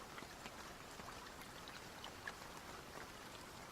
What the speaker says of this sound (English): That's definitely rain.